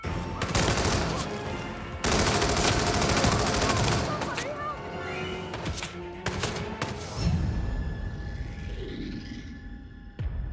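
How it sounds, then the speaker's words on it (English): Gunfire in the Hitman video game: rapid bursts of loud close shots and automatic fire crackle for several seconds, then fade to a lingering tone with a final shot near the end. "That was a gunshot! Watch out!"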